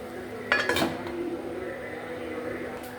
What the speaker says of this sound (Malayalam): നന്നായിട്ട് ഇളക്കി കൊടുത്തിട്ട് ഇനി കുറച്ച് നേരം മൂടി വയ്ക്കാം